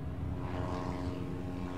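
A propeller plane engine in the air traffic game Airport Madness drones steadily with a low, even buzz and a faint tonal hum, holding constant throughout without any speech.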